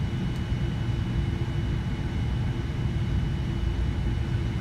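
Steady, loud jet engine rumble from a Boeing 787 in a flight simulator, a constant low drone with a faint whine above it that holds unchanged throughout, with no voices.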